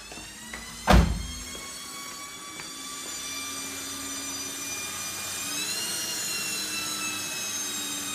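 A homemade electric vehicle conversion motor whining steadily as the gas pedal is pressed, its tone rising slightly partway through, preceded by a single sharp thump, close and moderately loud.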